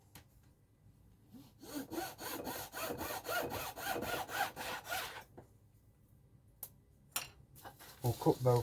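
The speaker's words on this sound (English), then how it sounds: "We'll cut both sides. I'll trim both sides so it's all square." Timber being sawn for a scratch-built model pit building, a close, steady run of rhythmic back-and-forth saw strokes for several seconds, followed by a few short scraping cuts and a brief pause.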